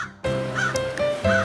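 A crow in a Hindi cartoon gives a few harsh, nasal caws in quick succession, loud and close, with no other sound around it.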